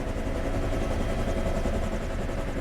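A UH-1 Huey helicopter's engine and rotor in Flight Simulator X drone steadily at a constant level, a dense, continuous low rumble with a mid-pitched whine and no voices.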